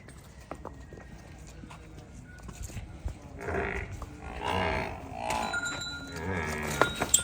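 Nili Ravi buffalo at a dairy farm in Pakistan, with hooves shuffling and clopping on hard ground and a low lowing call rising midway, amid quiet farm background and some nearby talk.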